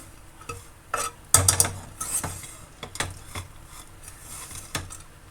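A spoon scrapes and clinks against a pan while stirring a dry fruits laddu mixture, several separate knocks and scrapes spread out over the stretch, near and fairly clear with no voices.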